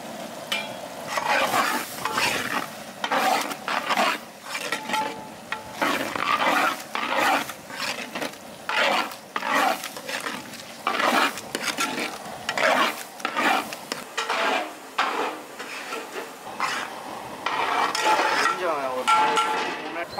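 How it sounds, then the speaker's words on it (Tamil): Spices fry with onion and tomato as a spoon scrapes and stirs them in a pan, busy repeated scraping strokes over a continuous sizzle, close and fairly loud throughout. "மசாலா நல்லா நம்மளுக்கு ஃப்ரை ஆயிடுச்சு."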